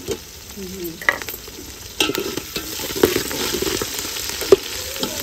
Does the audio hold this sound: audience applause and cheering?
no